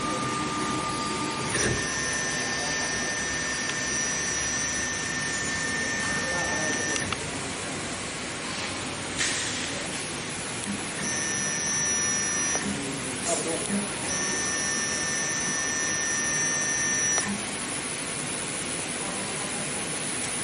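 A 1325 CNC router homes its axes with the second spindle running, giving a steady mechanical whine and hum with tones that switch on and off in stretches. A voice talks over the machine noise.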